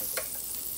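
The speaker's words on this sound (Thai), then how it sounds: "ได้ยินเสียงเดือดแล้วนะคะ" A breakfast sandwich of salami and cheese cooks in a brief, faint, steady sizzle with no other sound over it.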